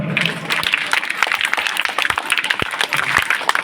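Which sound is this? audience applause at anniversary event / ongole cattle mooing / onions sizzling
audience applause at anniversary event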